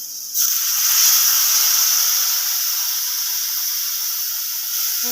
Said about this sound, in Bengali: ভাজা হয়ে গেছে, এর মধ্যে আমি সামান্য পরিমাণে জল অ্যাড করবো